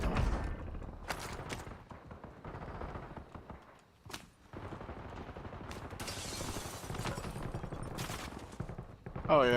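Sniper and other gunfire in a video game cracks out as a string of sharp shots mixed with bursts of rapid fire and some thumps. It plays at moderate loudness under ongoing game noise and talk.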